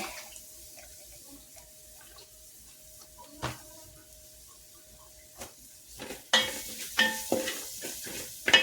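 Oil goes into a hot pan: a quiet stretch with a few clinks, then the sizzling and spattering rise sharply and loudly near the end, close by, with no talk.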